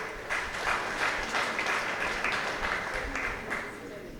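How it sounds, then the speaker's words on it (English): Crowd applause for a widow at a military general's memorial vigil, steady dense clapping that holds for about four seconds at a moderate distance. "Let's clap for the widow."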